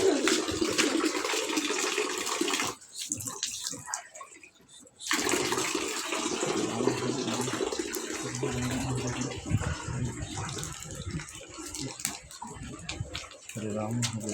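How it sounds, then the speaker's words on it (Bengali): Leftover water is poured out, a sustained rushing, splashing flow lasting several seconds, pausing briefly and then continuing with people talking over it. "আবার জল আছে, এটুকু ফালাই দিই।"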